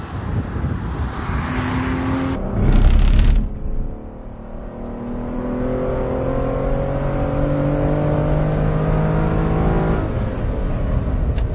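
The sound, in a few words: V12 engine car accelerating on track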